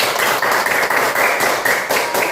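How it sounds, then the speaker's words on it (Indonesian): A classroom of students clapping their hands together during a maths lesson, dense rapid applause from many pairs of hands, close and loud throughout. "Tepuk tangan dulu"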